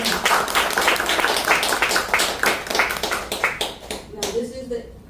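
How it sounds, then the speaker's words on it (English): A hip-hop museum panel audience claps for themselves, loud rhythmic clapping with individual hand claps standing out, tapering off as a voice begins speaking near the end. "give yourselves a round of applause for being here"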